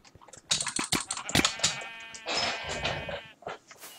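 Sheep bleating in the Minecraft minigame Sheep Quest, several short wavering bleats in a cluster with key clicks among them, followed by a longer drawn-out bleat and a few more clicks.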